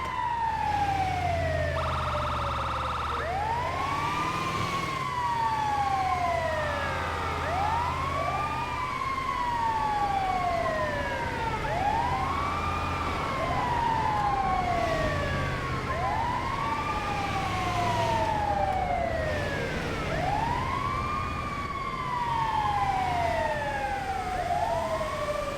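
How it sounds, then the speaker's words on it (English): Emergency vehicle siren on a modded paramedic squad fire vehicle in the GTA 5 game, a loud, steady wailing siren that rises and falls repeatedly over a continuous engine and road rumble. "We didn't have a siren at first, but found the issue in the vehicle meta."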